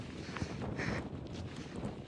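Wind gusting against a microphone on a cold rocky mountain hike, a steady close rumbling buffet with no voices.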